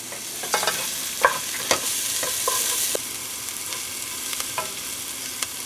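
Garlic and onions fry in a pan for homemade Italian sauce, a constant hiss broken by several light scrapes and taps as a utensil stirs, close by.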